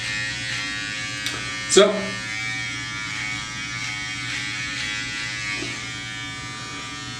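Braun BT3040 electric beard trimmer buzzing steadily and close throughout a long-to-short beard trim, with a brief clatter partway through and someone speaking briefly over it.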